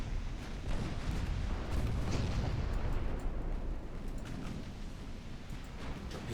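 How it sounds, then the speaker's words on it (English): A torpedo detonation in the naval strategy game Ultimate Admiral Dreadnoughts, a deep rumbling blast that swells and rolls on for several seconds amid continuous low battle noise. "Torpedo detonation"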